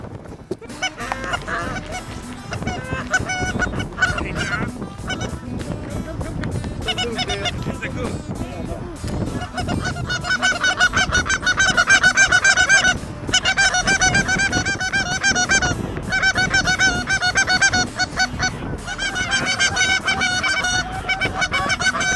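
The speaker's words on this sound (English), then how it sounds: "These geese are definitely locked on." A large flock of geese honks continuously in the field, a loud, dense chorus of overlapping calls that swells and stays busy throughout.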